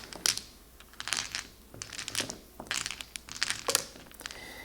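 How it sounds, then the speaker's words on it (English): Mahjong tiles turned face down are shuffled across a table, with dense clacking and rattling in irregular bursts, close and fairly loud throughout. "let's flip these down and give them a good shuffle"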